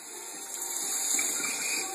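Water runs from open taps in a kitchen after a gas water heater repair, a steady, even hiss of flow throughout with no voices.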